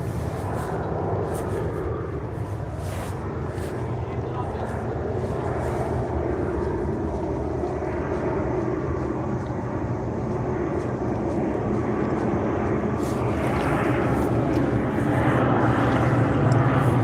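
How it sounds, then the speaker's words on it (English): An airplane passes overhead as a low, broad engine rumble, steady and gradually growing louder over several seconds, heard outdoors with faint background noise. "airplane overhead."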